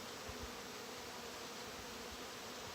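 Honey bees buzzing in an open hive during an inspection, a steady, soft, even drone of many insects close by with no voices.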